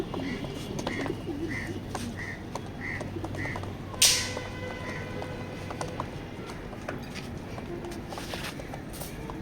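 Racing pigeons in a loft coo softly in a short run of regular, rounded calls over a faint background hum, with a brief sharp clatter partway through.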